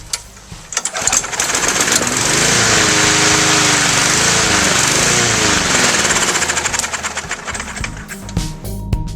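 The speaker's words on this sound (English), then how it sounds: "When your lawnmower runs and then dies instantly or revs up and down and then dies" A small lawn mower engine with water in its gas roars loudly, its pitch rising and falling in a couple of surges before cutting back to rattling idle.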